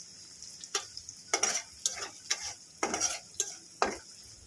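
Sliced onion and chillies frying in a pan, with soft sizzling broken by repeated bursts of stirring and scraping, about seven distinct strokes spaced unevenly, close and clear with no talking.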